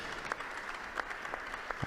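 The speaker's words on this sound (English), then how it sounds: "warmly welcomed with a round of applause" An audience applauds in the papal audience hall at the Roman Curia, a steady wash of clapping from a large crowd, moderately loud and continuous throughout with no voices.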